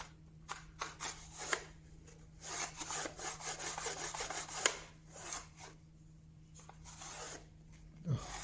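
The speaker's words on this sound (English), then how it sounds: "Let's put a bit of wax on here." Wax is rubbed by hand onto a wooden camera plate holder in quiet, uneven bursts of dry scraping and rubbing strokes with brief pauses, close and soft under a faint steady hum.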